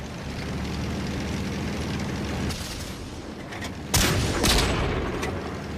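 Tank cannon fire and battle noise from World of Tanks on Xbox One roar over a dense rumbling background. Sharper blasts burst out around the middle and again near the end.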